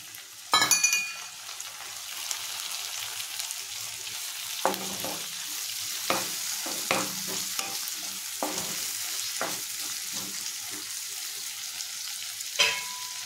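Onions and a tomato fry for a mutton and raw mango curry, a steady sizzle from the pan with scrapes and stirring clinks along the way and a sharp burst of crackle near the start, no voices.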